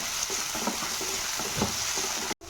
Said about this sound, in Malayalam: ഇതൊക്കെ നന്നായിട്ട് ഇളക്കി കൊടുക്കും.